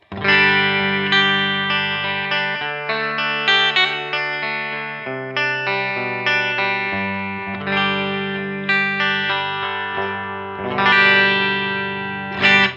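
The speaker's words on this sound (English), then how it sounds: "So the amp is set completely clean, and it sounds like this." Electric guitar through a completely clean tube amp and a BAD94 Mini pedal plays a run of chords, ringing and sustained with a spacious reverb tail, steady and fairly loud throughout.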